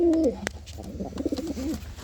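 Soft rhythmic cooing of high-flyer pigeons close by, a few repeated throaty coos with faint background noise.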